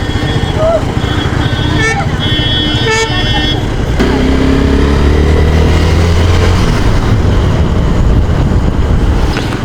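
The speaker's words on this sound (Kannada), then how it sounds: "ಸೊ ಫುಲ್ ಟ್ರಾಫಿಕ್ ಆಗಿಬಿಟ್ಟಿದೆ" Road traffic on a busy route in the Malnad region, with motorcycles and cars rumbling past, several short horn toots near the start, and a loud, close, continuous engine drone; a person talks over it.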